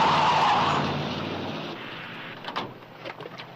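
A car spins around at a police roadblock, a loud skidding rush that fades over a couple of seconds, followed by a few short, sharper bursts.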